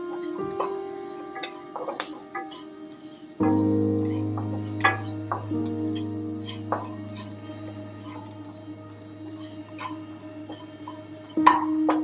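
A spoon scrapes and knocks against a pan while mushroom biryani masala with mint is stirred, giving intermittent clinks and soft scraping over a steady low hum, with no talk.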